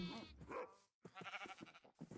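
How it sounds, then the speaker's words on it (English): Sheep bleating in the Minecraft video game, two short wavering bleats separated by a brief gap, close and clear with nothing else around them. "Sheep for the obvious thing of wool."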